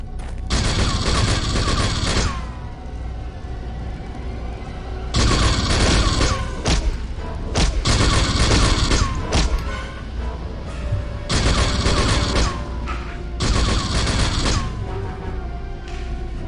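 Gunfire from the 2001 video game Aliens vs Predator 2, loud rapid bursts of automatic shots in several separate volleys of about two seconds each, with heavy thuds and scattered single shots between them.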